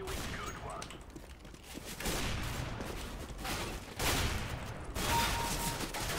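Gunfire bursts from a round of Counter-Strike: Global Offensive, dense repeated shots and clatter running through most of the stretch, loud and close, with a player's voice talking over the action.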